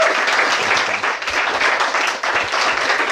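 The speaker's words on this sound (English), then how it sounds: "please give it up for Ian" An audience in an Irish pub applauds after a speaker's introduction at a history talk, loud dense clapping that holds steady throughout.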